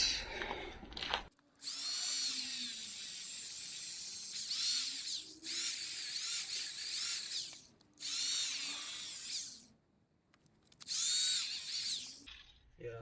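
A power grinder cuts through a Honda Prelude hose in several long bursts, loud and near, with short pauses between passes and a faint low hum underneath.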